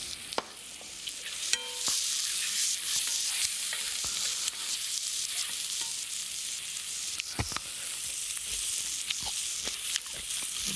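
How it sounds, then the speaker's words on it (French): Small onions frying with salty bacon lardons in a pan, a steady bright sizzle running throughout with occasional utensil taps and stirring scrapes, no voices. "Et on fait revenir les petits oignons."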